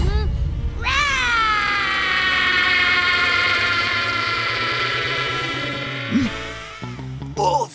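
A cartoon cat tries for a lioness roar, letting out one long, loud, strained yowl that swells and holds for several seconds before breaking off into short squeaks and sounds.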